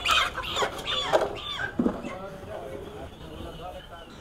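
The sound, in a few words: chickens clucking at a market chicken shop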